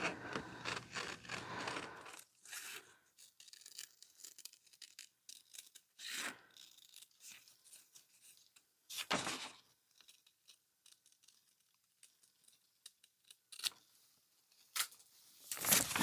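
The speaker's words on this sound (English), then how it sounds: "Got my paper scissors here, so I am going to cut this template out." Paper scissors snip out a circle template in a quiet room: short, separate crisp bursts of cutting and rustling paper, spaced by long silences, with a longer rustle at the start.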